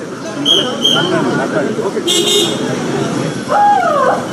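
Car horns toot briefly, twice, over a noisy outdoor crowd with steady babble and traffic rumble.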